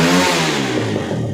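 Small motorcycle engine with a stock CDI revving hard, a loud steady mid-pitched drone that stays close and holds strong for the whole moment with no talk.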